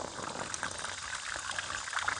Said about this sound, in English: and we can put some water in here.